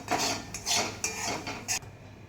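A metal spoon scrapes and clinks against a pan while grated coconut fries in oil for a Kerala lady's finger theeyal, giving several close, uneven stirring strokes with no talking.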